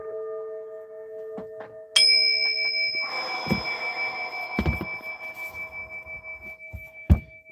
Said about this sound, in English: let me give a gong gong